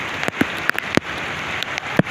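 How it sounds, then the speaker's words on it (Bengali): Heavy rain in Dhaka falls steadily in a constant wash, with scattered heavy drops tapping loudly on a surface close by; no one speaks. "ঢাকায় অনেক বৃষ্টি হচ্ছে"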